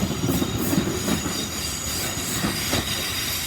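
A British Rail Class 450 electric multiple unit passes a station at St Denys on the South Western Main Line, a steady, fairly close rolling rumble with wheel noise and a high whine throughout, no voices.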